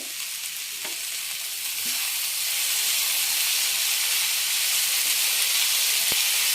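Green peas and curry leaves sizzle loudly in hot oil with frying cauliflower, a steady bright hiss that swells a little partway through, with a few soft clinks of stirring.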